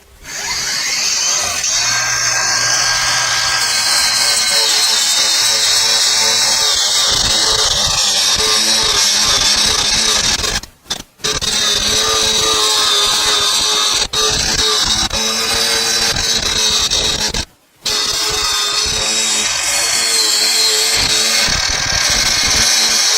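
Hychika 20V battery-powered angle grinder running, a loud, close, continuous high whine with wavering pitch, cut off briefly twice before spinning back up, no talk.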